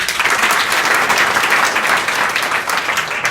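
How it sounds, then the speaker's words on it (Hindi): An audience at a college event applauds loudly and steadily, dense clapping filling the whole moment without pause. "बिल्कुल सही जानकारी दी आपने, ताली बजवाने के लिए।"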